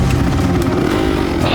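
A supermoto racing motorcycle at the Supermoto des Nations in the Czech Republic, back on track after a brake master cylinder problem, blares loud and close with a raspy high-revving engine note.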